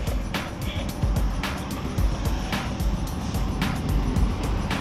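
A car cruising on a long highway drive through farm country, a steady road and engine rumble inside the cabin with periodic soft thumps from the road, continuous and fairly loud, with no talking.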